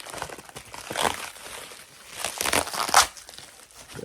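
Taped packaging is pulled and crinkled open while unboxing, a string of close, loud crackling and tearing bursts with short pauses between them, the sharpest rip near the end.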